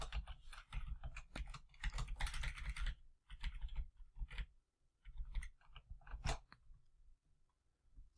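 Rapid, irregular clatter of computer keyboard keys being typed on during Apex coding, fairly close and clear, with bursts and short pauses and no talking.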